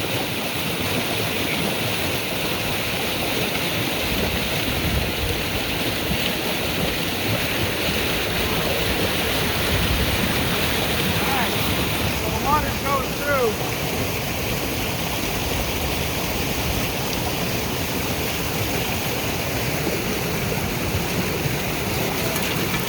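Water gushes from a desert well after a board is lifted, a steady, full rushing flow close by that continues without pause, with a few faint clinks partway through.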